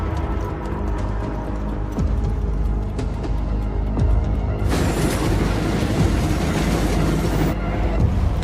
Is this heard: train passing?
yes